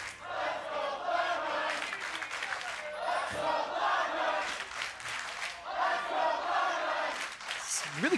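A large esports arena crowd at an NA LCS match between FlyQuest and Cloud9 cheers and chants in rising, rhythmic waves, loud and reverberant, with voices shouting throughout.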